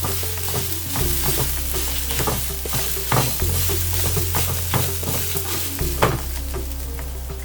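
Grated coconut roasting in the leftover heat of a pan just off the stove, a soft steady sizzle with scattered scraping stirs and brief clatters, close by, under a low constant hum, and nobody talking.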